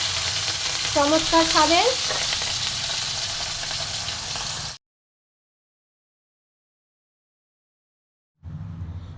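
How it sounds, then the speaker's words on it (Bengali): Salted, turmeric-coated fish belly pieces fry in hot oil in a kadai, giving a steady close sizzle for several seconds that cuts to silence and then returns briefly, with a short spoken remark near the start. "পেটিগুলো লবণ হলুদ মাখিয়ে রেখেছি, আমি ভেজে দিচ্ছি।"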